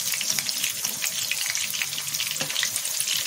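Kofta balls sizzle and crackle steadily in hot oil while a small spoon turns them, with a few soft clinks and stirring sounds over the continuous frying.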